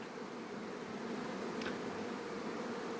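Honeybees buzzing around chestnut-honey beehives, a dense continuous droning hum close by with a brief louder pass near the middle; no talking.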